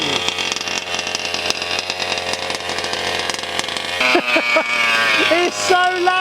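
A 1/8 scale HPI Savage Octane RC car with a real petrol engine is pulled into life. A loud, buzzy two-stroke rattle idles steadily, then snaps into sharp revving bursts near the end, with a voice under it.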